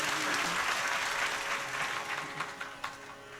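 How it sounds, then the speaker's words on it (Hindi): A crowd at a Ram Katha gathering applauds in a dense wash of clapping that starts full and then gradually thins and fades, ending in a few scattered claps. "तालियां बड़ी कमजोर है,"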